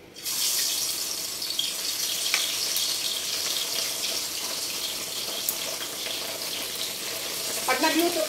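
A hotdog fries in a cleared pan for breakfast, giving a steady close sizzling hiss throughout, with a brief rise in crackle near the end.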